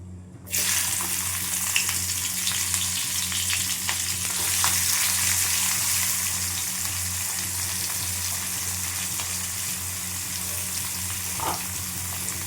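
Onions and whole garam masala fry in hot oil as the base for a red, spicy mutton curry. A steady, close, continuous sizzle holds throughout, with faint occasional ticks and pops.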